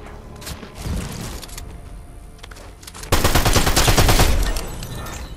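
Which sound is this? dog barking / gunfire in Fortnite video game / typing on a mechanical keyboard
gunfire in Fortnite video game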